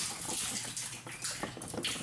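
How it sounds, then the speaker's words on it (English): Water splashes and sloshes as women draw water and wash laundry at a shallow rural well in Costa Rica, a close, irregular series of pours and splashes with no talk. "2 of the ladies are drawing water and doing wash."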